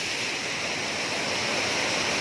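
Tamasin Waterfall in Jharkhand pours down before a hillside, a loud, constant rushing roar of falling water with no break or voices.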